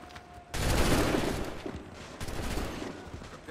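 Musket volley fire in Assassin's Creed 3: a sudden massed crack of many guns at once, loud and close, followed by scattered rolling shots and rumble fading into further ragged gunfire.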